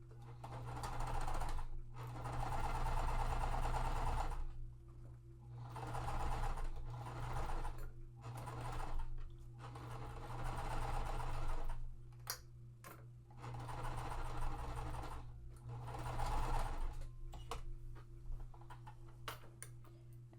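An older sewing machine stitches quilt pieces in several sustained runs of rapid mechanical chatter separated by short stops, close and steady over a low electrical hum.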